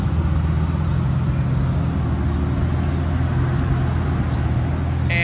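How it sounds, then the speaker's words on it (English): A warmed-up 2006 Lamborghini Gallardo Spyder idles steadily after several minutes of running, a constant low engine hum with a faint background hiss and no change in pitch. "the car's been idling now for about 5 minutes"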